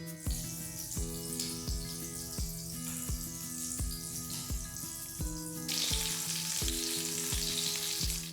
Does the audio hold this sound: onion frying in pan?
yes